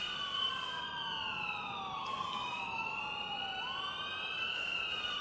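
An ambulance siren in Grand Theft Auto IV with the LCPD:FR police mod wails continuously, its pitch rising and falling in sweeping overlapping tones, loud and close throughout.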